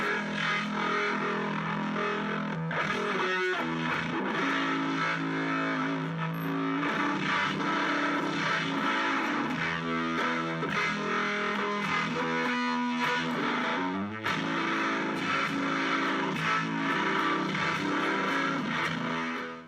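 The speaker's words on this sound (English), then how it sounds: "And then distorted is classic humbucker scream." Distorted cigar box guitar played through a humbucker pickup, a thick, saturated sustained tone with chord changes and brief breaks, loud and continuous for about twenty seconds.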